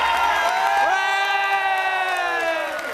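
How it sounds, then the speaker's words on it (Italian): Audience cheering and whooping on stage during a reaction show, loud sustained overlapping shouts and long held vocal cheers filling the whole stretch and tapering slightly at the end. "Anche a Iron inizio a dire un applauso che ha fatto break dance sul palco"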